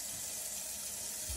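Water pours onto dry, soiled carpet in a steady, soft splashing stream, fairly close and quiet, with no talking.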